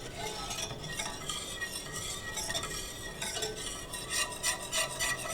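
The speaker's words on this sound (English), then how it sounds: "all we're doing is we're stirring this until it becomes a little thicker" Keto pecan pie bar filling being stirred in a pan, a steady close scraping and swishing of a utensil against the pan with a faint sizzle beneath, no talking.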